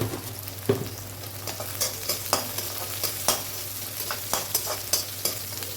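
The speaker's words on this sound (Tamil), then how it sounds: "நல்லா ஃப்ரை ஆகுதுங்க. நல்லா டீப்பாக ஃப்ரை ஆகணும்." Oil crackles and sizzles steadily as onions and curry leaves fry, with sharp pops and stirring scrapes recurring over a constant low hum.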